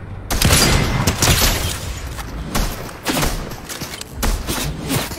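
Gunfire in a Fortnite match, with a rapid series of loud booming shots fired in quick bursts, close and punchy, filling the whole moment without any voice.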